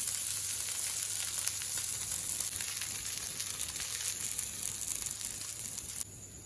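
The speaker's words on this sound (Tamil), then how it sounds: "இப்போ எண்ணெய் ஊற்றிப்போம். 2வது அடையும் பிரட்டி போட்டுப்போம். அப்படியே வேகும்." Sweet potato adai frying in oil on a pan, with a steady close sizzle and crackle that holds evenly throughout and drops slightly softer at the end.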